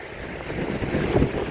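Strong gusting wind on stage two of the Pekoe Trail between Galaha and Loolkandura in Sri Lanka's hills, a loud, close, buffeting rumble against the microphone with no voices.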